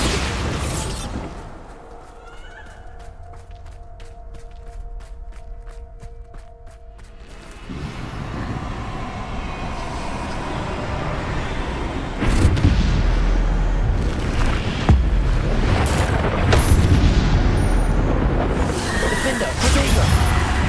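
A Bombarda spell explosion in Hogwarts Legacy, heard as a quiet rhythmic ticking passage followed by dense rumbling and a series of loud booming bursts, with the level jumping sharply near the end as blasts pile up.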